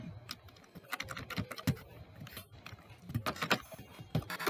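Quick bursts of computer keyboard typing as short spreadsheet sheet names are entered, irregular clusters of close key clicks with brief pauses between words, no talking.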